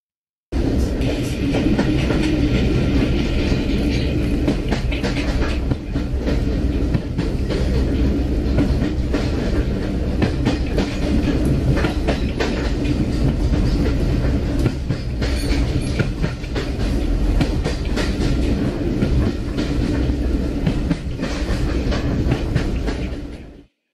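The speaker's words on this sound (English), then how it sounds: "The train noise is a little loud," A train runs steadily along rails with a loud, continuous rumble and faint clickety-clack, holding an even level throughout with no voices.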